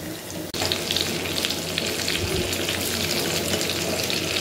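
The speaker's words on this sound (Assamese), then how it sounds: "এই ভাগৰ অকণমানি পিচটো হ'লে হৈ গ'ল মাছ ফ্ৰাই" Fish frying in hot oil hisses and sizzles loudly and continuously up close after a sudden start, with crackling spatter and no talk.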